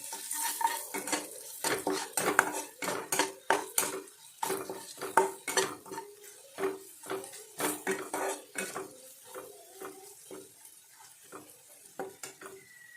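Turmeric and cumin stirred into a pot with a spoon, producing a close, rhythmic series of metallic clinks and scrapes over a soft frying hiss.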